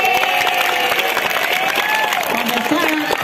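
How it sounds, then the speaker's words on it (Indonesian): Students in a high school classroom during an earthquake drill clap and cheer together, a brief noisy burst of applause mixed with chatter and raised voices throughout. "Tepuk tangan."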